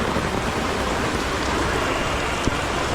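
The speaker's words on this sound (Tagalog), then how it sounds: "Ang lakas ng ulan with matching hangin pa." Heavy typhoon rain pours down steadily at a campsite, a loud, unbroken roar of water beating on surfaces with gusting wind mixed in and a single sharp drip or knock near the end.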